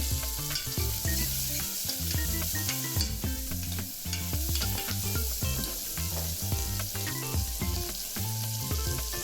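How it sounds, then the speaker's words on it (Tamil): Tomatoes and green chillies sauté in a hot pan for a sambar side dish, a dense, continuous sizzle punctuated by the repeated scrape and clatter of stirring, close and loud throughout. "ரெண்டு தக்காளி, 2 பச்சை மிளகாய் போட்டு அதை கொஞ்சம் நேரம் வதக்குங்க"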